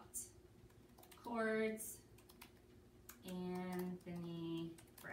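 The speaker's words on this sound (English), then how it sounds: "you type in, I'm going to tell you what I'm typing" Someone types a Google search on a computer keyboard, the quick key clicks running throughout between and beneath stretches of someone speaking close by.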